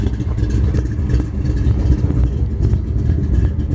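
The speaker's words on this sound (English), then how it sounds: "You can hear the camshaft in this old girl." Old 1958 Chevrolet Impala hardtop with a 348-409 V8 running nearby, a steady deep rumbling idle with a lumpy, pulsing camshaft lope throughout, loud and continuous with no talk.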